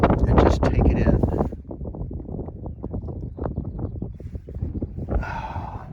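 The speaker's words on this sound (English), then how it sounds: "I know the wind makes it a little louder" Wind buffets the microphone on an open mountain summit in the Lost River Range, a loud rushing roar that eases after the first moment and gusts again near the end.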